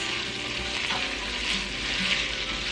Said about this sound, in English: And we're going to saute this for 3 minutes.